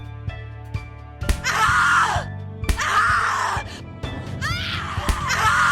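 A woman in The Cat Lady video game screams in three long, anguished bursts separated by short gasps and pauses, loud and close, with faint background tones underneath.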